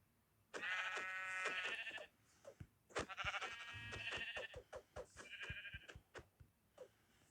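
Sheep in Minecraft bleat in long, wavering cries, first one sustained call, then another, interspersed with soft clicks and thumps, close and clear.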